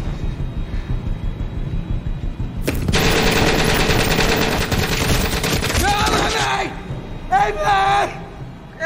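Sustained automatic gunfire in the shooter game The Complex, a dense rapid burst running several seconds, followed by shorter volleys and a few sharp crackling shots.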